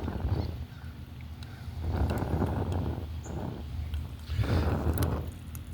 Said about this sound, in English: It's kind of windy out here today, so you can hear the flames being blown.